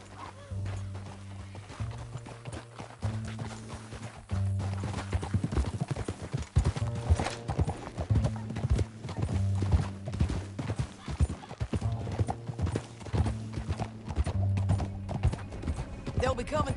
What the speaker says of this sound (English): Back on your horse.